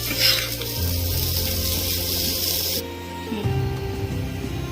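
Jaggery melting in a pan while being stirred, giving a steady soft sizzle and scraping rub close up, with a sharp drop in brightness partway through as the heat settles.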